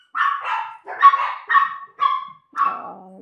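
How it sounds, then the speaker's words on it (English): Dog barking indoors in a run of six loud, close barks spaced about half a second apart, the last trailing into a whine, with no talk. "Are you barking? Is somebody outside?"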